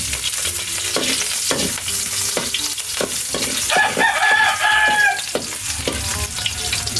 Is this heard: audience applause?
no